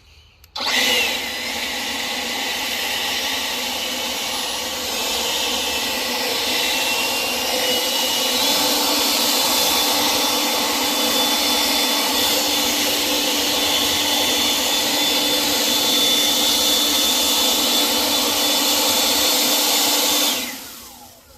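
A Kobalt 500 CFM cordless brushless leaf blower, run without turbo, blows damp leaves and dry grass in one loud, steady, close roar lasting about twenty seconds, starting and stopping abruptly.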